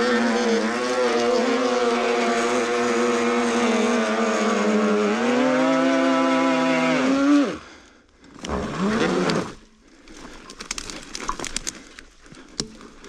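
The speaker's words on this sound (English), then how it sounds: "Let's turn on front motor, it will be easier to get out from this hole." A DIY two-wheel-drive electric fat bike with front and rear motors climbs out of a hole, its motors giving a loud, steady, rising whine that cuts off abruptly, followed by brief rustling and scattered knocks.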